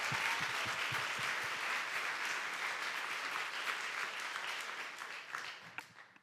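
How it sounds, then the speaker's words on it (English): Sustained applause from a large audience at a health and diet talk, a broad steady wash of many hands clapping that thins out and fades near the end. "Let's actually give Scott a big round of applause here."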